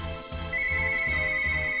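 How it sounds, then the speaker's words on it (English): A telephone rings inside The Gray Garden video game, a steady electronic ringing tone over rhythmic background music, with no talking. "Oh, the phone!"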